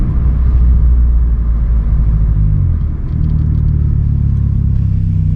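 Vauxhall Corsa engine revving during a night drive, a loud, close, deep rumble that holds steady with a brief dip in pitch midway.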